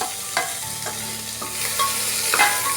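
Chopped tomatoes tossed into a hot pan for masala bhaat and stirred, giving a steady close sizzle with several scraping spoon strokes, no voices.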